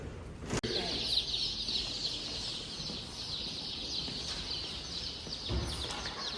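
Dozens of baby chicks shipped in a small box at a post office cheep in a continuous, dense high-pitched chorus close by, with one sharp knock near the start.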